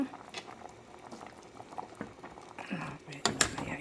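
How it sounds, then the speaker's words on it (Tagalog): Chili bubbling and simmering in a covered pot on the stove, a steady close boiling patter with a few lid and utensil clinks, and someone speaking over it. "Takpan muna natin. Pakulo pa ng konti."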